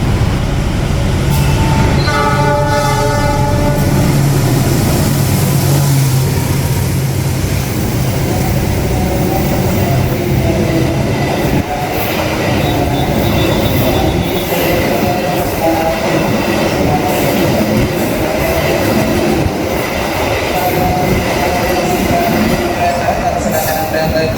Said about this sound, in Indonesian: Sama di jalur 6 akan masuk suatu kereta api, sebuah kereta api.